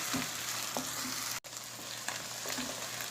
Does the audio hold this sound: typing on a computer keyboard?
no